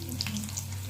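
Food fries in a pan with a soft continuous sizzle and light crackles over a low steady hum, close but faint.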